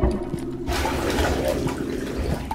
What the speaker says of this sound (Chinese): 冲马桶的声音会不会把鬼吸引过来？